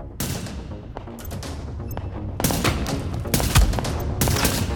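Gunfire bursts from The Division at the Hudson Refugee Camp, a sniper rifle among them, crack after crack over a steady battle din, with louder volleys clustering toward the end.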